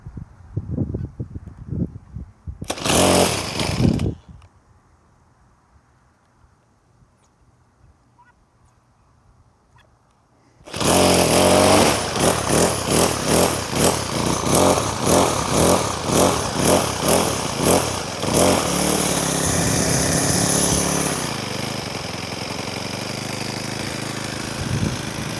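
A Troy-Bilt TB6044XP gas weed trimmer with a newly replaced carburetor sputters briefly, falls quiet, then starts and runs loud and close with a rapid buzzing engine note that settles into a steady idle.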